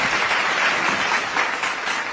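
A mushaira audience breaks into dense, continuous applause, loud and close, with no talk over it.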